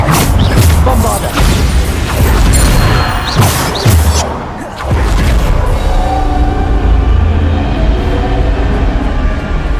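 In the game Hogwarts Legacy, the Bombarda explosion spell sets off loud, close crashing blasts with debris and deep booms. A sustained low rumble follows.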